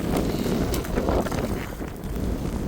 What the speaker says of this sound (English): this wind taking my breath away